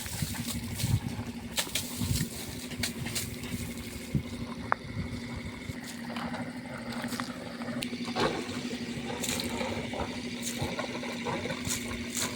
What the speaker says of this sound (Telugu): ఇప్పుడు మనకు వాటర్ ఎలా వస్తున్నాయి అనేది మీరు చూడండి